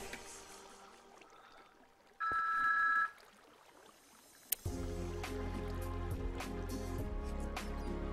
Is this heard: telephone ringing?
yes